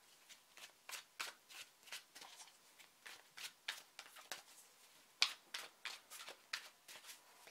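Tarot cards are shuffled in a quiet room, a brisk run of crisp riffling bursts repeating at a steady rhythm, close and fairly soft.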